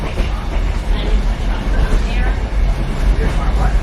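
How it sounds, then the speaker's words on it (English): Steady rumble of the Kuranda Scenic Railway train near Cairns, Australia in motion fills the clip, with a constant rolling noise and faint background voices murmuring among passengers. "we are literally on the Scenic Railway"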